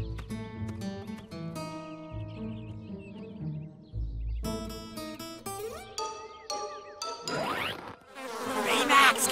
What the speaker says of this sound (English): Tiny bugs! They're in my mouth! Whoa! So many of them!